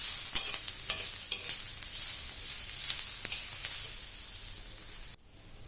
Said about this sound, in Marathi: आणि आता त्याच तव्यात लसणाच्या पाकळ्या आणि थोडंसं आल्याचा तुकडा मी घालते, तो पण भाजून घेते.